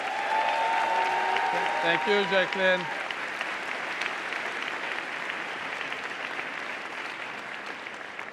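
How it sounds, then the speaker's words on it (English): Convocation audience at a university ceremony applauds for the master of ceremonies, a broad steady wash of clapping that fills the hall throughout, with a brief spoken thanks over it near the start. "could I have a round of applause for a really excellent MC"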